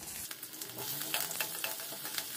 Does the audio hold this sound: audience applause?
no